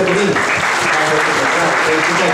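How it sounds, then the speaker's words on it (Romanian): Audience at a Romanian tourism awards ceremony applauding the investors, a dense, steady wash of many hands clapping at close range, loud and continuous with a faint murmur of voices mixed in. "haideți să mai aplaudăm o dată"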